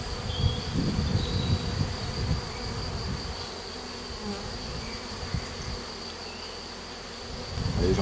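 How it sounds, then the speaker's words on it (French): Honeybees at an opened hive in an apiary hum in a dense, continuous buzz close by, with occasional louder passes of individual bees and faint handling noises. "Bon ben voilà Julie, si tu vois tes abeilles, elles vont bien"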